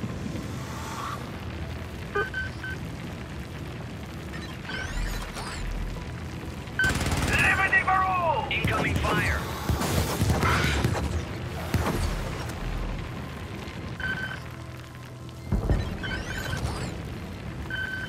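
Artillery barrage stratagem in the Helldivers video game: heavy booming blasts and rumbling impacts repeat irregularly over a dense, loud battle din, with a whistling, crackling burst in the middle and another strong hit near the end.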